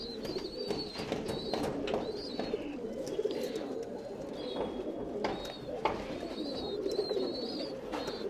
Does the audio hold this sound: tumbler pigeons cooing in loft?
yes